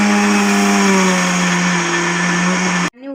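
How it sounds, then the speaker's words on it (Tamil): A loud, steady electric whir of a mixer grinder grinding appam batter close by, cutting off abruptly near the end before a brief voice. "மிக்ஸி ஜாரில் தான் அரைக்க போகிறேன்."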